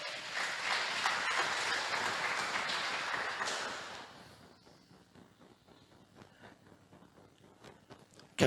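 Applause rings out in a church service during a sermon, strong for about four seconds before thinning into scattered claps and shuffling footsteps.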